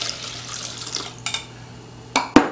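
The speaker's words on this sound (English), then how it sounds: "So first, combine the water and the milk." Water and milk poured together into a bowl for microwave oatmeal, a close, moderately loud liquid stream lasting about two seconds, followed by a couple of sharp knocks of a container.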